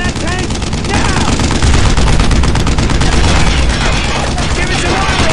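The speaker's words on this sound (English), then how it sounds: "need heavy fire on that tank now!" Heavy, continuous gunfire aimed at a tank in the World War II game Brothers in Arms: Road to Hill 30, dense rapid shots and booms layered loud and close for several seconds.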